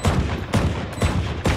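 Valorant gunfire comes as three quick, loud, close bursts of shots in an even rhythm, each a sharp crack with a short decay.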